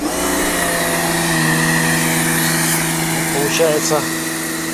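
A car-wash pressure washer with its rotating nozzle switched on drones steadily, a constant motor hum with a high hiss, while someone speaks briefly over it.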